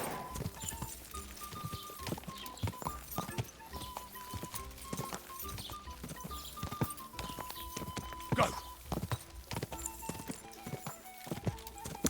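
Horse hooves clip-clop steadily on the ground in the medieval game Kingdom Come: Deliverance 2, a close, even walking rhythm running the whole time over a soft sustained tonal background.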